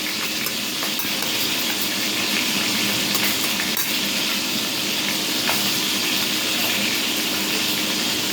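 Food frying in a pan gives a steady, loud hiss and crackle of hot oil that carries on without pause, close up, with faint stirring noises underneath.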